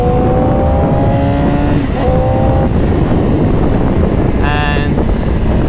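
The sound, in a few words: Yamaha R6 motorcycle riding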